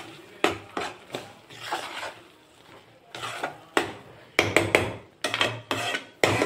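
A spoon scrapes and knocks against a pan while tomato and ridge gourd pachadi is mixed, giving irregular bursts of clinks and scraping strokes with short pauses between them, close and fairly clear.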